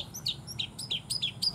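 A caged siliwangi bird gives quick, high chirping calls in rapid bursts, close and fairly faint over a low background hum.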